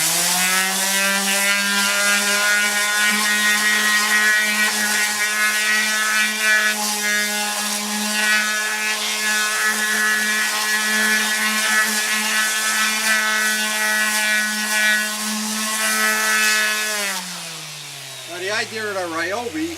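A Ryobi power tool drones loudly and close while sanding fairing bodywork on a Yamaha FZ600 motorcycle, holding a steady buzzing pitch before winding down near the end as the motor slows.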